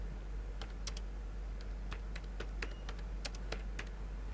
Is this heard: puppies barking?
no